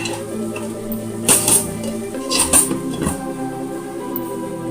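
A lid is set on a pot of spicy mutton curry, giving a few light metallic clinks at close range over a steady background hum, with no talking.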